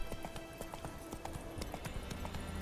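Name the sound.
horse galloping while chasing on horseback, video game The Witcher 3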